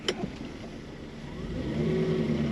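A manual-swapped Mercedes E420 engine runs steadily nearby, its low drone gradually strengthening and filling out toward the end.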